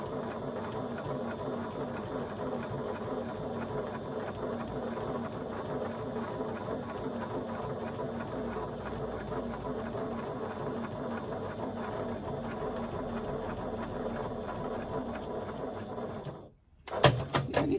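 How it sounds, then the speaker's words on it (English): A domestic sewing machine runs steadily while top stitching fabric from one side to the other, giving a continuous even whir with a fast mechanical needle rhythm, close and moderately quiet, then stopping abruptly near the end before some brief handling noises. "I'm just going to top stitch from one side to the other using an 1/8 of an inch seam allowance to secure this in place"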